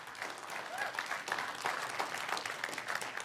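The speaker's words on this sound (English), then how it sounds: "give God a round of applause for that" A church congregation breaks into sustained applause during a Sunday morning service, a dense wash of clapping with scattered voices and cheers mixed in, steady and moderately loud throughout.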